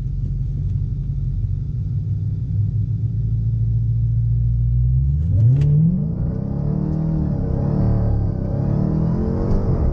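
A car on Continental Extreme Contact Sport 305/35/20 tires on 20x10.5 wheels idles with a low steady rumble, then launches hard in a 0-60 mph run, the engine note climbing loudly through the gear.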